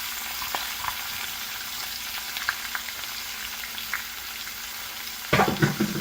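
Chopped onion and garlic fry in hot oil for a moringa leaf curry, an even close sizzle with a few light spatters and a louder burst of crackling near the end.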